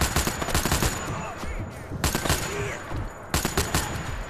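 Heavy gunfire from a big gun in the VR shooter Sniper Elite VR, loud repeated shots and bursts in several clusters that fill the whole stretch, with the action continuing between volleys.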